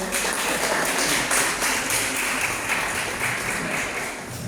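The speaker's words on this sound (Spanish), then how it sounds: "Bueno, un aplauso, por favor." Sustained applause from a church audience welcoming a preacher, a thick, even patter of many hands clapping at a steady level for the whole stretch, easing slightly toward the end.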